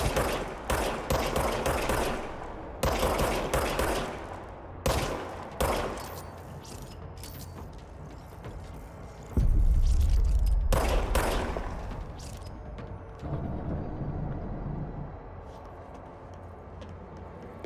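Gunfire from the service weapon in the video game Control: several loud bursts of rapid shots in the first seconds, then a heavy boom and further volleys, with no talking.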